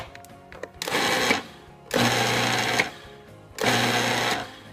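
A food processor shreds zucchini and carrots in three bursts of loud whirring and chopping, each about a second long and separated by short quiet pauses.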